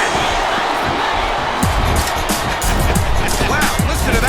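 An arena crowd chants and roars during a Royal Rumble match in the wrestling video game WWE Smackdown Vs Raw 2007, a dense, continuous wash of voices with rhythmic surges, with commentators talking over it.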